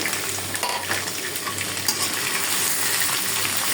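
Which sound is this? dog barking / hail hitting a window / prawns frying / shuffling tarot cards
prawns frying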